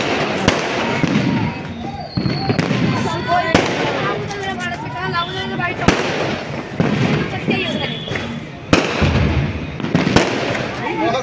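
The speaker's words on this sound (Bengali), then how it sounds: "তো 12টা বাজতেই চারিদিকে বোম ফাটা শুরু হয়ে গিয়েছে।" Firecrackers and fireworks bursting everywhere at New Year midnight, loud sharp bangs and crackling pops repeating irregularly near and far, with people talking and shouting underneath.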